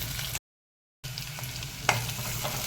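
Onions frying in a pan while being stirred, a steady close sizzle with one sharp scrape of the spoon against the pan; there is a short gap of silence near the start.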